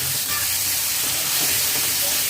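Onions sizzle steadily in a pan over a low to medium flame, a continuous close hiss of frying for a couple of seconds with no talk over it.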